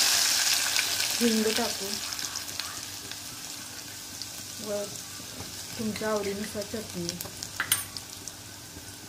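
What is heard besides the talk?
crushed garlic and spices sizzling in hot oil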